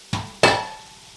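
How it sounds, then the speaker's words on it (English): Boiled, drained pinto beans being stirred in a pan, two sharp close metallic knocks of a utensil against the pan followed by a short, soft sizzle. "Give them a quick stir."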